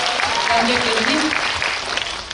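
Sustained applause from a cinema audience at a Korean film talk event, steady clapping filling the whole moment with a few faint voices underneath.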